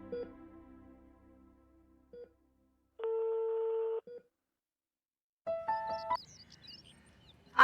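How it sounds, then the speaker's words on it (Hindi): Telephone keypad tones beep in short bursts of steady, evenly pitched notes with pauses between them, clear and close in a quiet room, one brief blip after another like a number being dialed. "मिलाओ फोन, शाबाश।"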